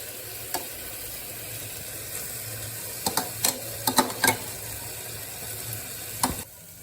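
Prawns fry in a spice masala in a pan with a soft, steady sizzle, broken by a few sharp clicks and scrapes of stirring, heard close and fairly quiet.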